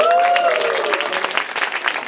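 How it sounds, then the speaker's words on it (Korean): Audience applause at a talk show forum fills the short passage with dense, steady clapping, with a brief voice over it at the start. "다시 한번 박수 주세요"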